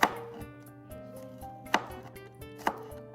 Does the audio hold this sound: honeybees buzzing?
no